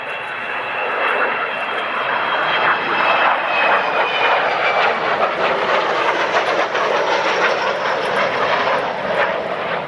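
An Avro Vulcan bomber flying at the Royal International Air Tattoo, a loud sustained roaring jet engine with a rushing, slightly howling tone throughout.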